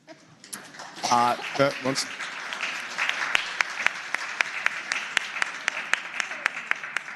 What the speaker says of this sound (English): you definitely deserve 2 rounds of applause as well